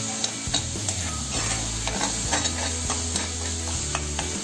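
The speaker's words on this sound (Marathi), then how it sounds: "आता परत ह्या तेलामध्ये चांगला हा टोमॅटो, कांदा, आलं लसूण आणखी मसाला चांगला परतून घ्यायचा" Tomato, onion, ginger-garlic paste and masala are sautéed in hot oil for a Malvani kardi (dried shrimp) masala, with a close, steady sizzle and repeated stirring scrapes of a spoon against the pan.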